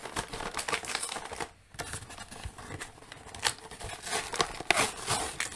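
A cardboard backing card is pulled off Hasbro Marvel Legends X-Cutioner action figure packaging, heard as close, busy crinkling, tearing and plastic-rustling sounds with sharp clicks, continuous over several seconds with a brief pause partway.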